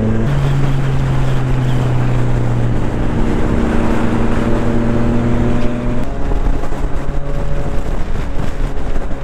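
A Triumph Street Triple RS motorcycle is ridden on the street, its engine droning loud and steady with held tones that shift in pitch as it changes speed, under heavy wind rush.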